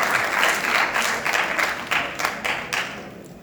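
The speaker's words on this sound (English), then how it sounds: "I think she deserves more applause" A crowd applauds steadily for a few seconds, dense clapping that holds at an even level throughout.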